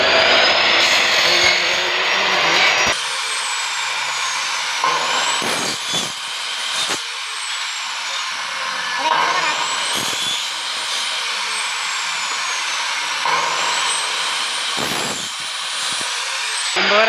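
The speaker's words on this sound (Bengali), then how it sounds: "মাল কাটিং করা স্টার্ট করছে।" A power saw slices through aluminium sections and interlock profiles for sliding windows, a loud high whine that rises and falls with each cut, separated by brief pauses and knocks as pieces are repositioned.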